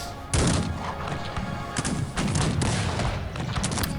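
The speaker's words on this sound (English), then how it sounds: "Now Colorfit is going to just try and shoot some of those light infantries with his dragoons" Musket volleys from dragoons in the Cossacks 3 video game, a dense run of overlapping gunshot cracks and thuds crowding the whole stretch, loud and continuous with repeated bursts.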